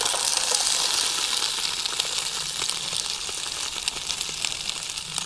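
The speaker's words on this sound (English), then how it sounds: "There's nothing like a lovely sizzle from a campfire cooking." Vegetables sizzle steadily in a hot pan over a campfire at a wild camp, a dense, loud crackling hiss with scattered pops, continuous throughout and without any talk.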